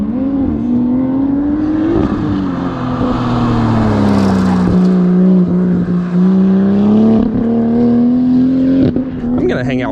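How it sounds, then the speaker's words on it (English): Toyota Supra racing through a rainy autocross course, its engine note rising and falling steadily throughout with a near, loud rev that sweeps up and down, with people talking faintly nearby. "here comes the Supra though."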